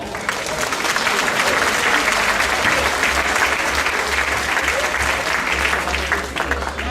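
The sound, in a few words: crowd applauding the harvest queen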